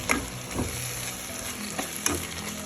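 Onions sauté with chicken in a pan for a chicken curry: a steady close sizzle runs throughout, broken by several sharp scraping stirs of a spoon against the pan, with no talking.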